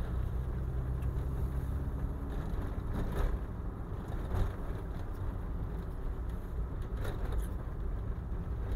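Steady low rumble inside the cabin of a moving VW Golf Mk2 GTI with windows closed, with constant road and engine noise and occasional soft bumps, no voices.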